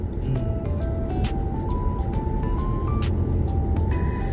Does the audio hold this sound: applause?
no